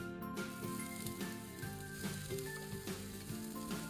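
Chopped onions sizzle steadily in a hot pan, a close, even frying hiss that keeps going for the whole stretch, with a faint tonal hum running underneath.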